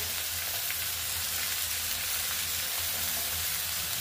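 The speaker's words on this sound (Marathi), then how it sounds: "तर हे सगळं व्यवस्थित परतून घ्यायचं जोपर्यंत पालक मऊ पडत नाही तोपर्यंत" Spinach and peas sautéing in a pan for hara bhara kabab, a steady close sizzle with faint stirring throughout and no voices.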